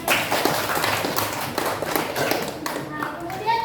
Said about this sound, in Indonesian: Kita tepuk tangan dulu teman-teman.